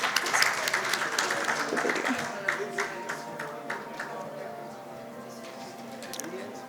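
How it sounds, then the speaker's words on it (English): Applause for dignitaries at an education panel event, with clapping strong at first and then thinning to scattered claps as it fades, while voices are heard alongside. "Can we have a big round of applause,"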